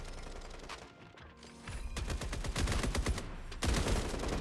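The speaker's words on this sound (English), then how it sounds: "I'm kind of getting distracted with all the gunshots going around." Rapid assault rifle fire crackles through a shooter video game match, sustained bursts building louder and denser, with a brief quieter lull before heavy overlapping gunshots resume close up.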